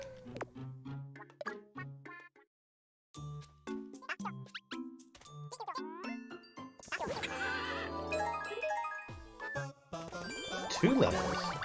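Game audio from Miitopia with a string of short chiming tones, a horse whinny, then a busy swell of jingling effects and music toward the end.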